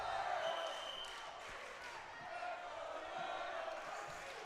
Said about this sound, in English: Just hear the pandemonium coming from the crowd